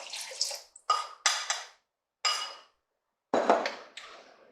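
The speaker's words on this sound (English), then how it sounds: "So to this, we are going to add in our beef broth" Beef broth is poured into a pot of reduced red wine in short bursts of liquid splashing and trickling, close and fairly quiet, with brief silences between pours.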